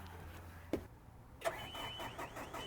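A 2014 Deere 310SK loader backhoe cranks and fires up, with a couple of sharp clunks before the diesel engine catches and settles into a steady mid-pitched running hum, heard close and without talk.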